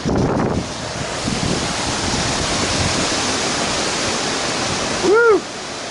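Strong hurricane wind during Hurricane Matthew, a loud, steady rushing roar against the microphone with a harder gust at the very start and a short tonal whistle near the end.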